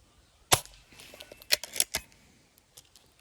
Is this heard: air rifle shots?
yes